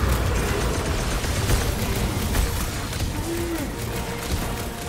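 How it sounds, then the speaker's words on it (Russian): Core explosion in the Guardians of the Galaxy video game, a dense sustained rumble of blasts and bursts filling the whole stretch at steady loudness, with faint game chatter mixed underneath. "Ядро сейчас взорвется!"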